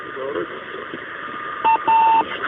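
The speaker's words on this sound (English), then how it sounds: "The familiar beeping of the radio beacon on the Soyuz" Electronic beeps from the radio beacon of the Soyuz MS-21 spacecraft during its return from orbit ring out twice in steady tones over a crackly radio hiss, following a brief murmur of distant voices.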